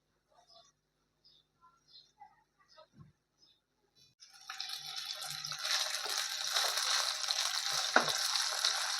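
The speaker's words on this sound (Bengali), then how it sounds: "পনিরটাকে আস্তে আস্তে ভাজবেন, একটু লাল করে হালকা" Paneer pieces fry slowly in hot oil, a soft clink or two at first, then a steady close sizzling hiss that swells and holds to the end.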